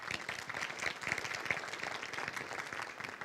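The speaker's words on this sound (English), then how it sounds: "Another round of applause." A round of applause at a Joint Base Lewis-McChord community update, steady moderately distant clapping from an audience that continues evenly throughout.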